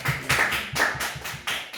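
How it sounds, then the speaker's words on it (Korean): Quick, rhythmic claps from a church youth-group congregation, about seven sharp beats in under two seconds, close and fairly even. "우리 수고한 두 분을 위해서 박수를"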